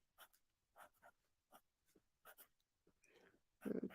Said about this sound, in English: So, gonna write it down.